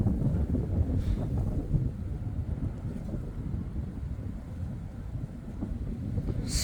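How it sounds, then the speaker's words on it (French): Strong wind gusting hard during a violent June thunderstorm at La Buisse, Isère, a loud continuous roar buffeting the microphone for the whole stretch with no let-up. "Oh là là, le vent!"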